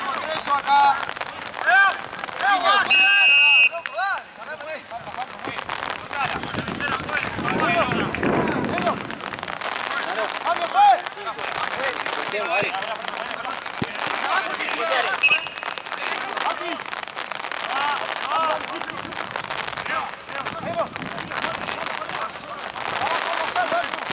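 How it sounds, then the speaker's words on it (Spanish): Heavy rain on an outdoor football pitch during a second-division league match, a steady loud hiss and crackle that runs throughout under shouting players and coaching voices. "Llueve de mierda."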